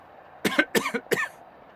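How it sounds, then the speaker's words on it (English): Three quick, close coughs in a row, sharp and throaty, with quiet around them. "At the cough from the back seat, all of us swivel."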